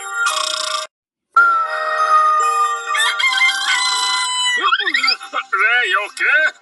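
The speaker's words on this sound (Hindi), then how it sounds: "5 बज गए, बांग देने का समय हो गया" A rooster crows in a Lego stop-motion cartoon, its wavering call breaking into several rising and falling bursts near the end, loud and up front after a stretch of a ringing, tonal electronic sound cut by a brief silence.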